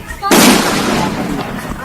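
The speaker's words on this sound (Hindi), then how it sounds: "उसके बम फेंकते ही वहां जोरदार धमाका हुआ।" A bomb thrown at a house goes off in a loud, sudden blast that bursts out after a brief quiet lead-in and leaves a sustained roaring rumble fading slowly over the next second and a half.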